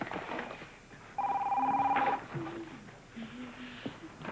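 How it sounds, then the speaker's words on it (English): A telephone rings indoors with a long electronic trill, a steady burst lasting about a second, followed by faint murmuring voices and soft room sounds. "Is that the phone?"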